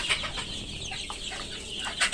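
Native deshi chickens on a farm cluck in short, repeated calls close by, with a steady background of farmyard noise throughout.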